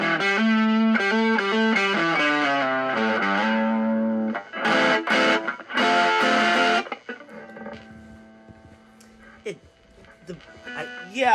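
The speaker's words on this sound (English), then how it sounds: "And then go to distortion." Electric guitar played through a Harby Noble Tone pedal on its distortion setting, a run of picked notes giving way to loud, fuzzy strummed chords that cut off, then a quieter stretch of string noise and a brief final chord.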